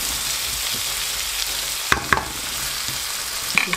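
Tomatoes frying with masala in a pan make a soft, even sizzle, punctuated by a few louder scraping stirs of a utensil near the end.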